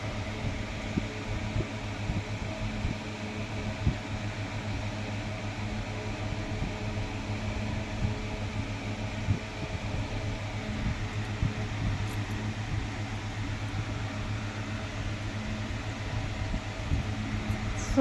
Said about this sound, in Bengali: আমার বর আমাকে দাড়ি কাটতে দিচ্ছে না, তাও আমি খুব কষ্ট করে কাটছি।